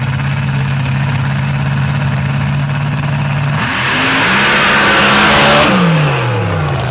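A blown paddle-tire dragster with a screw-blown 506 cubic inch Hemi and Whipple supercharger idles with a steady low drone at Lee County, then revs hard into a loud rising roar and pulls away.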